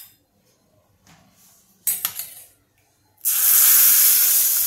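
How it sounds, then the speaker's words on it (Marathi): Hot tempering (phodni) poured over dal with chutney, a few quiet clinks of a metal pan, then a sudden loud, sustained hissing sizzle that continues to the end. "त्या चटणीवर मी ही फोडणी ओतून घेते."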